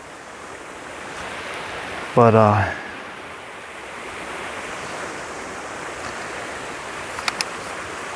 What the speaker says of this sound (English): there's a waterfall near me